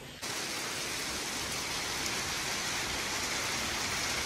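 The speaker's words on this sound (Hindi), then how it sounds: "अभी तक बारिश स्टार्ट हो गई थी" Heavy rain pours down in Manali in a dense, continuous hiss, fairly close and unbroken throughout.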